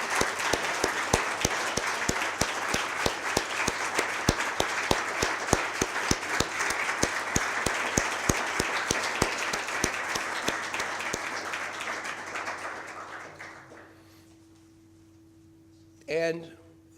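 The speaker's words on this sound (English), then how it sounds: "please rise and receive a heartfelt round of applause from all of us" Audience applause for scholarship donors at an endowed scholars celebration, a loud sustained round of many hands clapping for about thirteen seconds before fading out, followed by a brief murmur of voices near the end.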